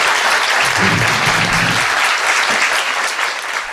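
Studio audience applauds a National Assembly lawmaker at a live talk show taping, a loud, dense, sustained round of clapping that holds steady for several seconds before easing slightly at the end.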